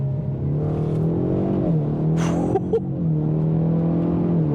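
A 2024 Ford Mustang EcoBoost turbocharged engine with a 10-speed automatic, heard from inside, drones steadily under load with a brief pitch drop at a gear shift midway and a faint high whistle.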